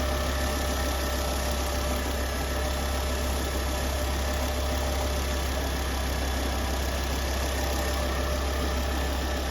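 A 2011 Volvo C30 R-Design T5 turbo engine idles steadily after fuel pressure sensor repair work, a loud, constant close-up drone with low rumble and faint knocking texture throughout.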